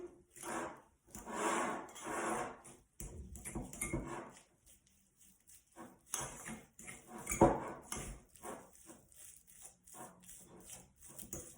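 Pappardelle alla carbonara stirred in a pan, giving uneven scraping and rubbing bursts with occasional clinks of utensil on metal, close by and fairly quiet, with pauses between strokes.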